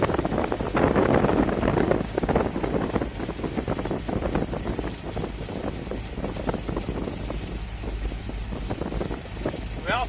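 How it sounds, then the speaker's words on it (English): A car engine idles with an exhaust leak, a steady low rumble and ticking heard close, with some mechanical clatter and a brief squeak near the end. "We also have an exhaust leak."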